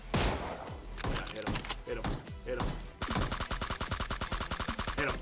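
Gunshots ring out behind the player in PUBG Mobile: loud, heavy shots crack in uneven succession, then a fast, steady string of automatic fire rattles on to the end.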